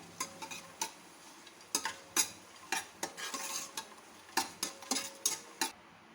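Fennel seeds roast in a pan while cooking jaggery rice, a spatula scraping and tapping the metal in a quick, uneven rhythm of close, quiet clicks over a faint sizzle, with no voices.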